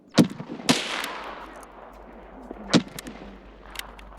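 Gunfire crackles from a fight with scavs in Escape From Tarkov: a few sharp, separated shots ring out over a low hum, with echoing tails and gaps of quiet between them.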